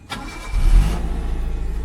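A car engine cranks briefly and catches, settling into a close, steady idling rumble, heard from inside an Eeco van at night.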